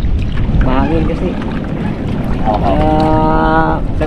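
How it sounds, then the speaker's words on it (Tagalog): Strong wind blowing outdoors on a boat before a storm, a constant heavy rumble buffeting the microphone, with people talking over it. "Mahangin kasi."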